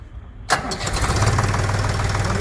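A Deutz-Fahr or John Deere farm tractor engine cranks and fires up abruptly, then settles into a loud, steady running rumble close by.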